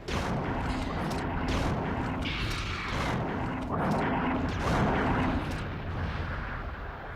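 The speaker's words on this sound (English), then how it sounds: "fire rounds all the way. It's dealing so much damage, it's actually hitting him twice" Repeated fire rounds blasting at the Gravedigger in Resident Evil 3: Nemesis, heavy booming shots with fiery bursts over a dense, continuous roar of game noise.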